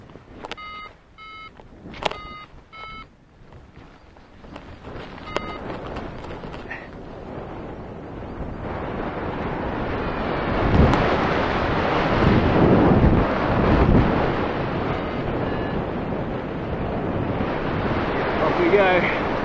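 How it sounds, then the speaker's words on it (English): Strong mountain wind buffets the microphone at a paraglider launch site during an alpine race, a rushing roar that builds and stays loud from about ten seconds on, after a few electronic beeps at the start. "It's giving me a bit of a pain, this wind."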